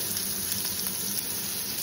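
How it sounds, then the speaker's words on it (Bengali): Slices of bitter gourd (karela) fry in a small amount of oil, giving a steady, even sizzling hiss with no breaks, close by and moderately loud. "করলা ভাজা হচ্ছে।"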